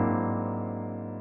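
A jazz piano chord built on a whole tone scale, with a tritone, rings out as a dense, sustained cluster of notes, starting at moderate volume and slowly decaying, heard alone without talk.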